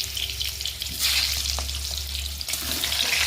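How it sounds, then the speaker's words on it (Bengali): Potatoes sizzle and fry in hot oil, browning to a reddish color, with a steady crackling hiss, occasional stirring clinks and a low background hum. "আলুটা ভেজে নিয়ে আমি একটু লাল লাল করে"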